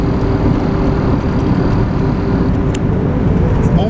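A 1986 Oldsmobile Regency car driving, its steady engine and road rumble heard from inside the cabin, continuous and fairly loud with no talking.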